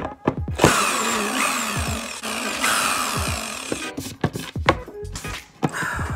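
A power drill whines loudly into a wooden desk for several seconds, pauses, then bursts again in short spurts with clattering knocks between.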